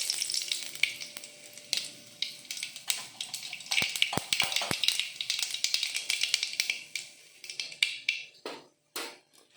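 Mustard seeds hit hot oil in a pan for a village-style cabbage curry, crackling and popping in a dense, lively sizzle with sharp spattering bursts throughout, close and without talk.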